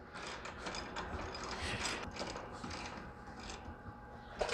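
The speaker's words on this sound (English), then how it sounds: "the first thing we got to do is tighten up this bolt" A ratchet turns a bolt on a planter being readied for the field, a quiet, close run of soft mechanical clicks and rubbing against low background noise; no speech.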